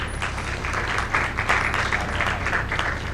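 An audience at a panel on territorial solutions and violence prevention in Cali applauds a vice minister, giving a steady, even wash of clapping from a crowd.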